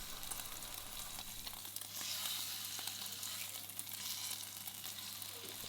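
A bone-in pork joint of around 800 to 900 g sears in a single pot without an oven, a steady, fairly quiet close sizzle and crackle running unbroken with no talking.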